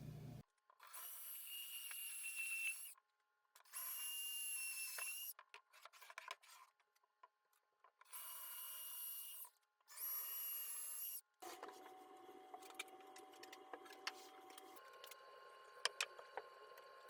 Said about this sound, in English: So I'm gonna drill the holes for the feet in the bottom of the legs